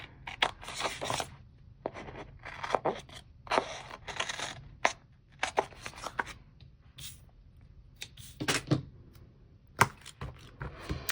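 Scissors trim sheets of paper while a reading journal spread is set up, giving a series of close, crisp snips and rustles in irregular bursts with short pauses between.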